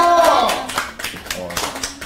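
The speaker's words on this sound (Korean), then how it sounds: "박수 한번 주세요" Applause for a guest arriving at a birthday-party livestream: a brief burst of hand clapping from a small group, fading out over about two seconds, with voices talking over it.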